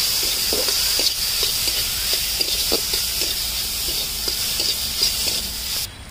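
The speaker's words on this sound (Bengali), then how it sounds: "আমার কিন্তু সুজিগুলো লাল লাল করে নাড়া হয়ে গেছে" Semolina and chhana being stirred in a pan with a spatula, scraping strokes repeating steadily over a continuous close sizzle and hiss, no talk.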